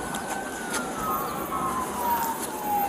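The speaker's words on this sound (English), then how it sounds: "Ambulance is coming." An ambulance siren sounds during a police arrest in Akron, a faint, steady wailing tone drifting slowly downward, distant and partly buried under ambient background noise.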